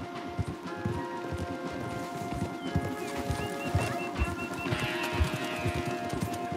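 Horses gallop in Red Dead Redemption 2 gameplay, a quick run of hoofbeats over a busy game soundscape, moderately loud, with a few faint bird calls and some other game sounds mixed in.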